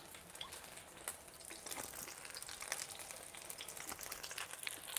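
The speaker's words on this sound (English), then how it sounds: "And we're just going to saute these with a little bit of salt" Food sautés with a little salt in about a tablespoon of oil in a hot sauté pan, a steady, soft, crackling sizzle with fine pops throughout, faint and continuous.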